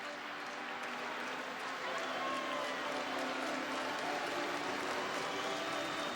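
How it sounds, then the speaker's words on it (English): Baseball stadium crowd at a Pirates–Cubs game applauding relief pitcher Hector Rondon coming up to bat, a broad, sustained roar of clapping and cheering from a large distant crowd. "the round of applause that you hear here is for Hector Rondon"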